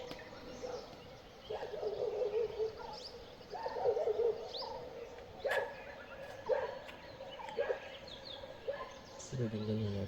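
Dogs barking in the forest of Jim Corbett, a series of distant calls that echo through the trees in irregular bursts, with faint voices in the background.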